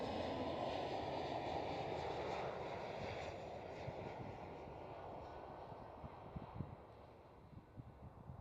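KLM Cityhopper Embraer E175 at Amsterdam Schiphol, a distant jet engine roar that is strongest at first and slowly fades, with some close handling noises near the end.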